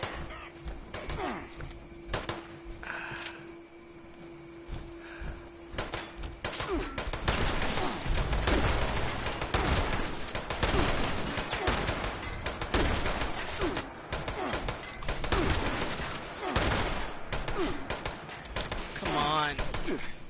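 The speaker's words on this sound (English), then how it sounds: "They're shooting with 50 caliber." Fifty-caliber gunfire rattles in Fallout 76, bursts of heavy shots cracking repeatedly in the middle of the clip amid game sounds and a talking voice.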